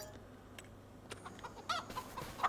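Chickens in the farming video game Farming Simulator 25 cluck softly in short scattered calls, faint and somewhat distant over a low background hum, growing a little busier toward the end.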